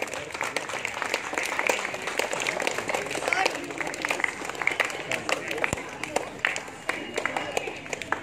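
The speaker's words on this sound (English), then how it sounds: "Clap, clap." An audience claps at a Kyokushin karate award ceremony, with rapid, scattered applause throughout and people talking over it.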